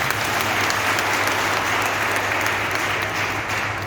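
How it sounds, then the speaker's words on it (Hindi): Students in a classroom clapping for a classmate, a brief burst of continuous, close, even applause filling the room with no voices on top. "अंशिका के लिए ताली बजाइए।"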